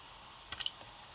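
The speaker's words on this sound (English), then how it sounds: "First spot weld." A spot weld on 18650 battery cells gives a faint, very brief crackling snap with a small electrical zap, set against a quiet hum.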